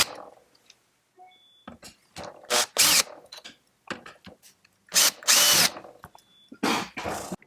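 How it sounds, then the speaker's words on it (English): A power drill on a low torque setting backs out a wire clamp screw inside a Gene Cafe coffee roaster during heater assembly repair, in short whirring bursts separated by clicks and brief pauses. "on low torque setting, we're going to remove the wire clamp screw"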